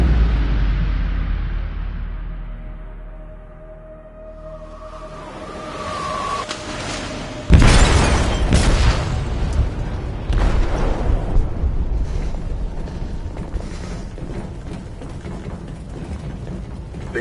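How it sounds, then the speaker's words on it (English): Explosive detonation in a ship's hold in the video game Detroit: Become Human, a sudden loud boom hitting hard and giving way to a sustained roaring rumble, crackling debris and metallic groaning that fill the rest of the scene. "They detonated an explosive in the hold."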